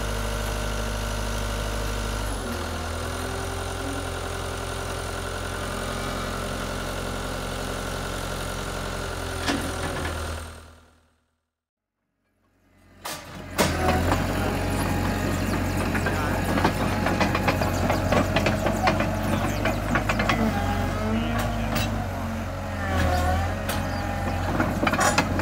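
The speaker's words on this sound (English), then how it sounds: "It started with a pony gasoline engine." A Caterpillar D2 crawler tractor's small pony gasoline starting engine runs at a steady, droning idle, cuts out briefly into silence, then comes back louder and rougher with a busy, rattling mechanical clatter.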